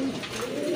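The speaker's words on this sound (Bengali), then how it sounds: "খুবই সুন্দর এক জোড়া কবুতর, কোয়ালিটি ফুল কবুতর" A pair of pigeons at a bird market gives a brief, soft coo, close by with steady background noise.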